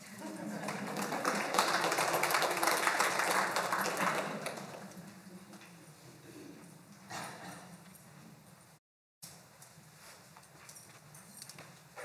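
Applause from an audience at a county government center event fills the room, starting strong and gradually thinning to scattered claps, followed by quieter room sounds and footsteps.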